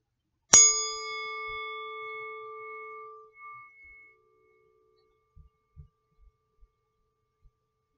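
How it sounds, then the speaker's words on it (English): A meditation bell is struck once and rings out clear and sustained, its tone slowly fading into near silence. A few faint soft bumps follow. "when the sound of the bell calms down, then we'll begin"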